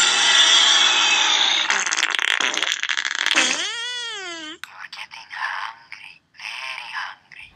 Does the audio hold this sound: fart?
yes